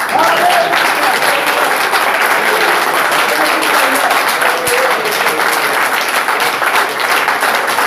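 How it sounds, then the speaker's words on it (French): A large church congregation applauds loudly and continuously, dense clapping filling the whole stretch without a break. "Applaudissons pour le Seigneur"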